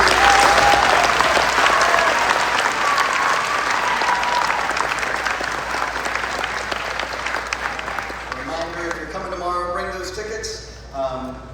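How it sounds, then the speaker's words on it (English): Sustained applause from a crowd at a school Green & White Awards ceremony honouring seniors, loud and dense at first, then gradually thinning out as a few voices begin talking near the end. "One more round of applause for our seniors this week."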